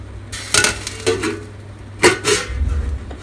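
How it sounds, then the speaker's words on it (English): A lid is set on a pot of bean soup, giving a few short metallic clinks and clatters, close and fairly sharp, against a low background hum. "I put the lid on"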